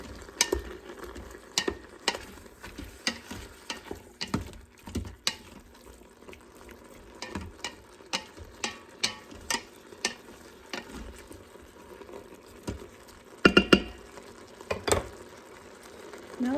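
Onions and garlic cooking in an Instant Pot for beef stew, with soft intermittent stirring scrapes and clicks over a faint steady sizzle, close and fairly quiet.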